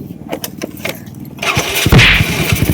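A motorcycle engine cranks and catches at close range, a brief starter whir followed by a rough, steady running rumble, with some handling noise before it.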